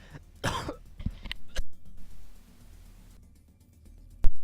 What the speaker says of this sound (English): I had a bit of a cough there.